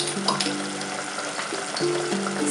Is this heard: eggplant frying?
yes